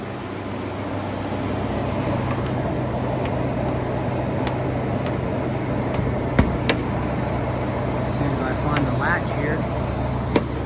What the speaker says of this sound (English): Nice healthy sounding V6 engine here